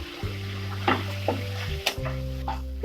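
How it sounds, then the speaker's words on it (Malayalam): Garlic, ginger and curry leaves sautéing in a pan for a Kerala beef curry, a steady close sizzle with a low hum running beneath and a few brief stirring scrapes. "വെളുത്തുള്ളി ഇനി ഇത് നന്നായിട്ട് വഴലണം"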